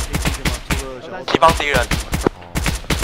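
Gunfire in the military shooter game ArmA: sharp, loud shots in a steady rhythm, pausing briefly while someone speaks over the radio, then resuming in regular bursts.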